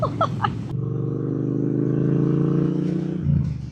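A motorcycle engine idling close by with a steady, throbbing low rumble that holds for several seconds, preceded by a brief clatter.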